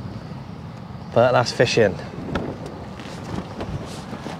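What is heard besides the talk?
wind blowing on shore, microphone wind noise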